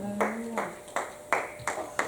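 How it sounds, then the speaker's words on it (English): A church congregation claps in time at a worship service, six or so sharp, evenly spaced claps sounding together in a reverberant room, with a brief tone in the background. "Clap your hands and celebrate God."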